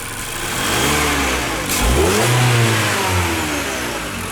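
A 2015 Mazda 6 SkyActiv engine with about 85,000 km, previously knocking, runs just after start-up, revving up and settling back, a loud close steady drone with rising and falling pitch and no talk.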